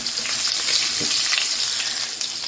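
Fish fry in hot oil for a Jamaican brown stew fish, giving a steady close crackling sizzle with small pops and a brief clink partway through.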